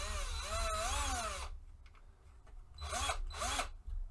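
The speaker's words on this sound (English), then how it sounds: "Now I didn't drill through to the other side, thank goodness" A power drill whines with a rising and falling pitch as it drills into a glass light globe, then stops and gives two more short bursts after a pause.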